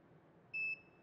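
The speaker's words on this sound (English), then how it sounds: "it beeps when the capacitors are back to full" An Elinchrom studio flash gives its ready beep when the capacitors recharge, a single short pure electronic tone lasting about a quarter second over a faint background hiss.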